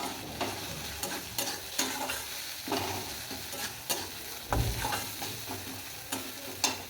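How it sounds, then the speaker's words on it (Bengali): Spices with a little turmeric powder being stirred in a hot pan for egg biryani, with a steady sizzle and repeated scraping strokes of the spoon at an uneven rhythm, close and moderately loud. "আর একটু সামান্য হলুদ গুঁড়ো, ভালো করে আমি নেড়ে ছেড়ে নেবো"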